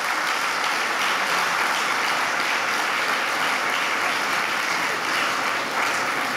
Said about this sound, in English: Can I ask us all to applaud ASEAN at 50 years old?